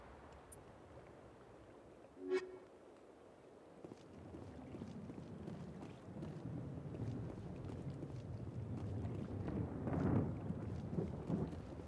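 Gunshots fired into water in the video game Mass Effect, a rolling, thunder-like rumble with a sharp crack early on, followed by a long low roar that swells and churns like a storm.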